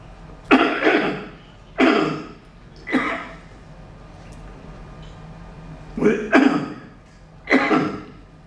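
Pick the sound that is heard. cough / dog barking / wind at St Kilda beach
cough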